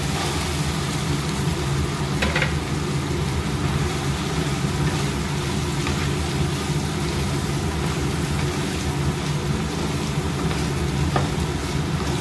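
Tomato paste cooked down in oil sizzles steadily in a pan while dal is added, giving a continuous close frying hiss with a low background hum and a few brief clinks.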